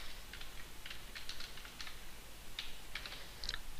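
Computer keyboard typing while a teacher writes chapter numbers and descriptions for digital resource files: irregular light key clicks in short bursts across the clip, moderately quiet, with no speech.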